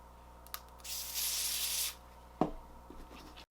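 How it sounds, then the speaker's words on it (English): A sustained hiss of spray from an aerosol can of adhesive spray used to glue down a wig lasts about a second, followed by a short tap and faint rustling. "I'm going to use my Eben adhesive spray here."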